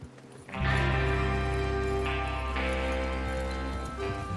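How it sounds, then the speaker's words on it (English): Horse hooves clip-clop in a steady trotting rhythm in the game Red Dead Redemption 2, over a loud, sustained musical backdrop, close and continuous after a brief quieter opening. "Get your horses ready."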